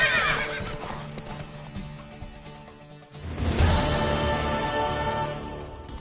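A horse whinnies loudly twice in The Witcher 3: Wild Hunt, the second call longer and fuller, with hoof clip-clops and game ambience around it.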